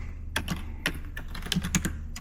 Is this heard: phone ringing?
no